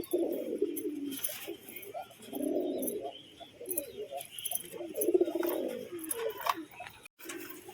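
A pair of biscuit-coloured homing pigeons coo repeatedly in close, rhythmic bursts, with soft chirps and light rustling between calls and no voices.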